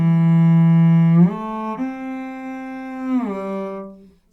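A slow cello exercise from Feuillard's Méthode du Jeune Violoncelliste, played with weak bow control: one sustained, clear bowed tone alone, then two shifts to new pitches with short audible glides between the notes, before it fades out.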